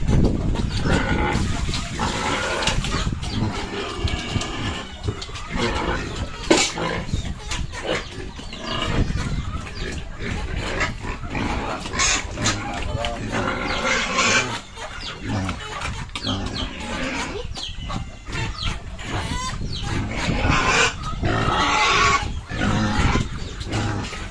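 Many young piglets, about a month old, squeal and grunt continuously at close range on a farm, a busy, overlapping chorus of farm-animal noise throughout.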